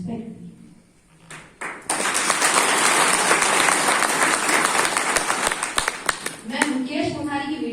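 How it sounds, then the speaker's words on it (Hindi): An audience claps loudly and steadily for several seconds after a brief pause in a speaker's talk at a business seminar, with talk resuming faintly as the applause fades. "आप लोग ने मेरे लिए ताली बजा दी।"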